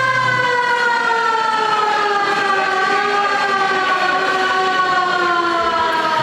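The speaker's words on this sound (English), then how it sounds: "They'll get a siren going on" A loud siren wails steadily and slowly descends in pitch inside a hockey arena as a team enters the ice, filling the space with crowd noise underneath.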